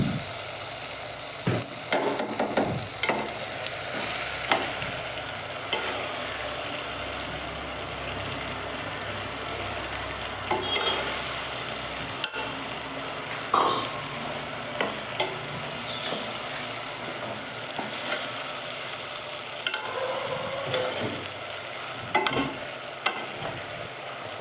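Rice for khichdi, with onion and peas, is added to a frying pan and stirred, giving a soft continuous sizzle broken by scattered scraping and clinking strokes, with no talking.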